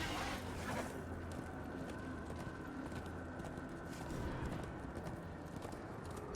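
Muffled horse hooves thud in Darksiders 2 gameplay, sitting low under a dense, steady bed of game ambience and rumble that continues for the whole stretch.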